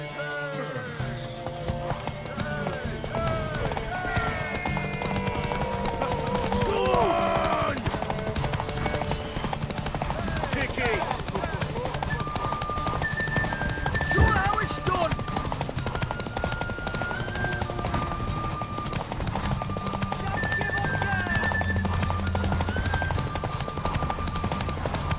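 A horse in The Witcher 3 video game gallops with fast hoofbeats and gives a few neighs amid game music and effects, as characters talk over the action throughout.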